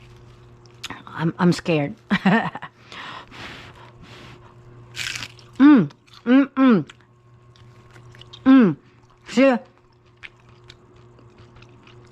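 Crunchy bites into fried Filipino lumpia egg rolls, with several sharp, distinct crackles spaced through the middle and end, close and clear over a quiet background, while someone talks briefly at the start.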